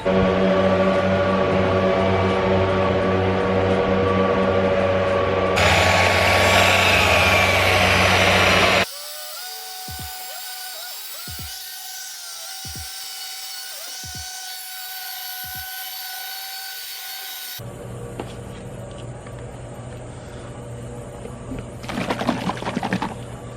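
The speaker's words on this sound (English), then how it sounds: "So now it's time to get some wax and polish on there with the buffer to make these look a lot better." A power buffer polishing car headlights makes a loud continuous whirring drone. The pitch and texture shift abruptly between sections, with a stretch of sharp rhythmic clicks midway.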